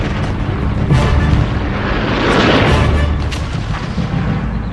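Anti-aircraft guns and SAM missiles firing in combat: a loud, continuous roar of overlapping booms and rumbling bursts, with a swell of louder activity midway and no pauses.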